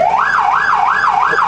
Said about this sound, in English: So if we hit the siren,